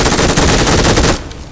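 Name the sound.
gunfire in a video game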